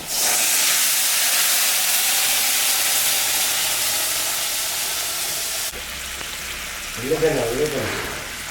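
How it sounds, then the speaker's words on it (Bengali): Ground dried red chilli, cumin and ginger paste goes into hot oil in a pan for a rohu fish curry, hissing loudly and steadily before easing down, with a voice speaking briefly near the end. "এখানে শুকনো লঙ্কা, জিরা, আদা আছে বাটা, এটা আমি এখন দিয়ে দেব"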